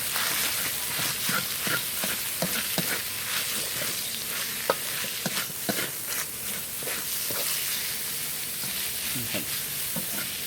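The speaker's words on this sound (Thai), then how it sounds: "นกสับเราเนี่ยครับ ลงไปผัด ผัดเป็นนกก่อนนะครับ ผัดจนหอมเลย" Chopped quail stir-fried in a pan over moderate heat: a steady, close sizzle broken by frequent scraping stirs of the spatula, with no talking.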